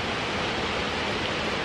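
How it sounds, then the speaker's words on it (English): A waterfall in Coyote Gulch canyon in Utah's Escalante roars as a constant broad rushing hiss, steady and enveloping with no voices over it. "Enjoying the shade and the sound of the waterfall that you can see there"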